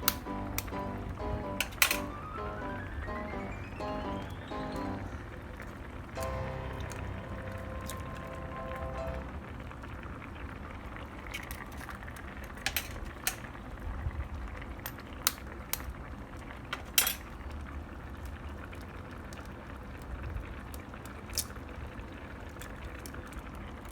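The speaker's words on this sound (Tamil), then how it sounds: "முட்டை போட்டாச்சு, தண்ணி பாயில் ஆகுது." A pot of water with native chicken eggs in it comes to a boil on the stove for an egg gravy, giving a steady bubbling roar with occasional clinks of the pot and utensils; no talking.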